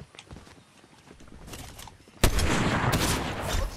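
Gunfire in a shooter video game, starting with scattered light taps and footstep-like clatter, then breaking into a loud, dense, continuous burst of shots that lasts to the end without a break.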